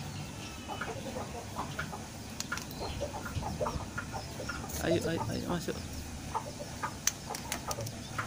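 Chickens and a rooster cluck in short, irregular bursts close to a homemade trap, moderately loud, while a person repeatedly calls out to coax them inside.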